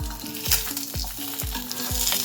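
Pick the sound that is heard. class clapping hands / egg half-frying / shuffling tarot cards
egg half-frying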